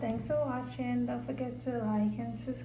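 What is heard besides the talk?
No everyday noise stands out behind the speech.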